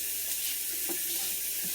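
Shrimp sautéing in a pan for shrimp scampi, a steady close hiss of sizzling that runs the whole short stretch with faint kitchen clatter.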